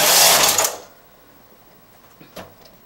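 A knitting machine carriage is pushed across nine needles in work on a baby bootie. It makes one loud mechanical whirring sweep lasting under a second, then goes quiet, followed by a couple of faint clicks.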